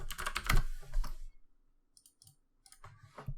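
Rapid bursts of keystrokes on a computer keyboard as code is typed, a loud clattering run in the first second and a half, then a pause and a few scattered later taps, close and with no talking.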